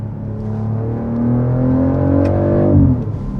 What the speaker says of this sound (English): that engine note sounds so good. And the tone of it, the tone of this B58 in this car specifically sounds different